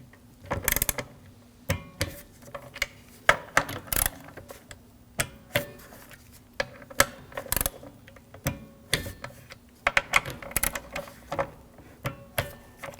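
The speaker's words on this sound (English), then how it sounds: "Now I'm going to torque these bolts to 79 inch-pounds." A torque wrench ratchets down the intake manifold bolts on a 2007–2013 BMW 328i with a 3.0-litre inline-six, giving close, repeated bursts of quick mechanical clicks and ticks with short pauses between, no voices.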